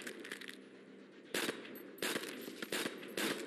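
Bursts of automatic gunfire in World at War Custom Zombies, a World War II shooter, come in short loud volleys over a steady low game background, with a couple of separate rapid strings near the end.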